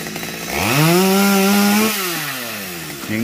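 A chainsaw cutting a melaleuca tree near a lake revs up close and loud, holding a steady droning whine as it cuts, then its pitch dips and climbs again.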